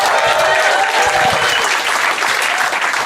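A live comedy show audience at a Christmas special claps and cheers loudly for a comedian, a dense, steady wall of applause that stays strong for the whole three seconds, with a few scattered voices mixed in.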